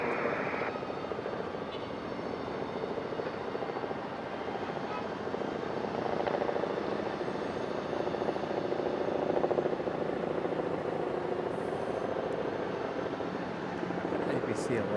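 An ABC-11 news helicopter hovers near Raleigh-Durham International Airport as a steady, broadband rotor and engine roar, distant but constant throughout, with a person talking over it at times.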